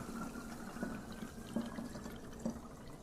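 About 16 ounces of water is poured into a container to mix an aluminum sulfate concentrate, a soft, faint trickle and splash with small drips.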